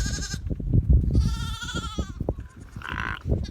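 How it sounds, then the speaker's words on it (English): Native Shetland ewes of mixed colours and fleeces bleat repeatedly on a croft in Bressay, several calls overlapping nearby with a low rumble of wind or movement beneath. "Behind me you can see some examples of some native Shetland ewes"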